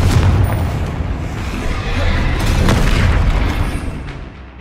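A Confringo blasting spell explodes in the Hogwarts Legacy game, a loud, booming burst with a long rumbling tail that swells again midway and fades out.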